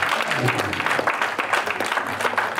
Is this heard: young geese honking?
no